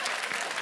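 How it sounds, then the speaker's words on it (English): Applause from a church congregation during a Sunday service Q&A session: a brief, dense burst of many hands clapping together, fairly loud and steady, with no talk over it. "Clap."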